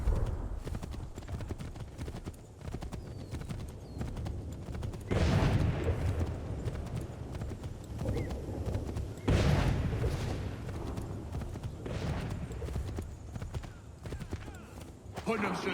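Horse hooves gallop steadily through a battle scene in the video game Assassin's Creed III, with bursts of gunfire and booms breaking in around the rhythm and voices talking over it.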